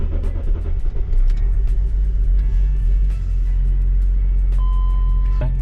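Range Rover L322 engine cranking and idling on key start, a steady loud low rumble that holds throughout, with a brief tone near the end.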